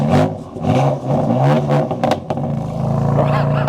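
A 2016 Mustang V8 with a manual gearbox, a right-hand-drive Gen 6 S550, revs up close by from a rough idle in a brief, loud burst of engine roar that then falls away.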